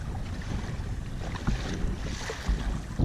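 A breeze gusts past the microphone while an Old Town Topwater PDL 120 kayak is pedaled on the water. A low, rumbling wind hiss runs steadily with a few stronger buffets, faint and close, with no voices.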